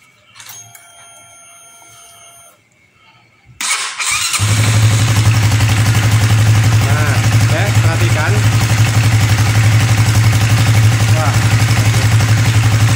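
A fuel-injected motorcycle engine cranks and catches after a quiet stretch, then settles into a loud, steady idle that runs to the end.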